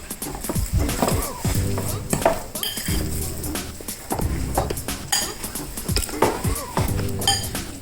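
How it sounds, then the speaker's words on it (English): A fork whisks and scrapes through lasagna ingredients in a bowl, giving steady rhythmic clinks and taps against the dish in repeated bursts, fairly close and with no talking. "So I'm just going to take a fork here and start mixing this up."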